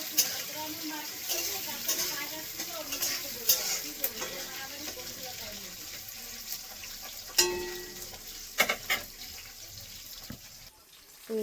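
Green chilies and garlic fry in a pan with a soft, steady sizzle under a person's talk, broken by several sharp pops and clatters near the middle.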